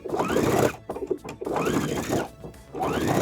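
A sewing machine stitches binding onto a round drawstring pouch, running in short bursts with brief stops between them as it back stitches, close and clear with no talking.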